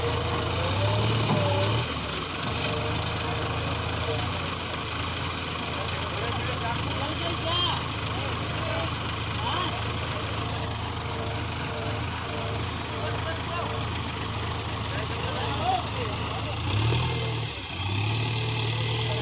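A JCB excavator and a loaded sugarcane truck stuck in a field run their diesel engines in a steady low rumble throughout, with voices talking faintly over the drone.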